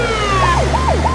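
A loud ambulance siren wails up and down in repeated sweeping cycles, close by, with a low engine rumble underneath.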